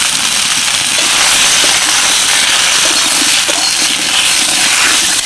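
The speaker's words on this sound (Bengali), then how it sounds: "অল্প একটু সাদা তেলের মধ্যে ঝিঙেগুলো ভেজে নেব।" Ridge gourd slices fry in a little white oil with turmeric powder, giving a steady, loud, dense sizzle and crackle that runs throughout with no talking.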